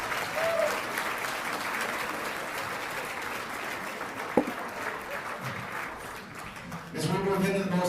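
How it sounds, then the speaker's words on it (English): An audience at a community gala event applauds in a long, dense wave of clapping with one sharp knock midway, and a voice begins speaking as the applause fades near the end. "Please give her a big round of applause."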